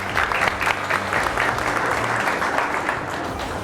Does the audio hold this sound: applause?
yes